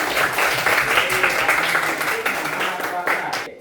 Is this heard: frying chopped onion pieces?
no